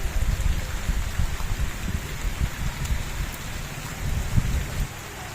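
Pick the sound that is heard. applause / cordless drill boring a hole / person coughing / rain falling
rain falling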